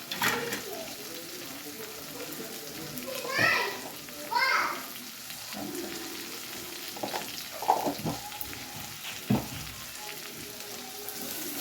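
Sliced onions with masala and turmeric sauté softly in a pan, with a low sizzle and occasional stirring scrapes while children's voices chatter and call in the background.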